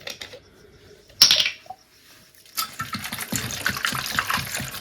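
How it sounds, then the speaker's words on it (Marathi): Water pours and splashes against a bronze pot, with clinking and scraping as it is rinsed, broken by a brief pause midway. "आता आपण पाण्याने"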